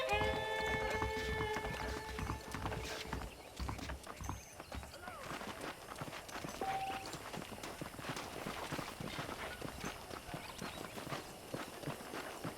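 Saddled horses in a Western ranch setting in the video game Red Dead Redemption, hooves clip-clopping in a steady walk amid ambient outdoor game sound, with a character talking over them.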